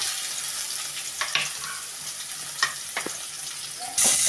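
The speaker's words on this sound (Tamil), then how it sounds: "நல்லா கொஞ்சம் வதக்கிடுவோம்." Oil sizzles steadily in a pan as onions and green chillies fry for prawn gravy, with a few sharp clinks of a spoon stirring against the pot.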